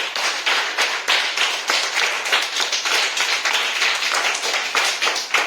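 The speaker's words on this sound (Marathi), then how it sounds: "हिच्या उत्तरासाठी जोरदार टाळ्या" Loud, close clapping from children and adults in a Konkan primary school rewards a schoolgirl's answer, a brisk, uneven burst of hand claps running throughout.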